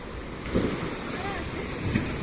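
Waves breaking on a shore: a steady, close wash of surf mixed with wind noise, with two slightly stronger swells as the water crashes.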